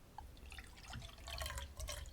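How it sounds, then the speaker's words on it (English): Tap water trickles and splashes steadily into a cooking pot, a faint, close liquid pour heard alone. "now I'm going to pour it into my pot"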